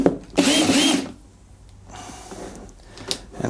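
A Makita drill stuck in hammer drill mode runs in one loud burst of about half a second near the start, then falls quiet, with faint clicks and a short mechanical snap toward the end.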